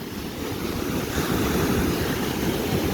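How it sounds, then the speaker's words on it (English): Large ocean waves break on the Pacific coast, a continuous loud roar of surf with wind buffeting the microphone and no voices. "But those waves are huge."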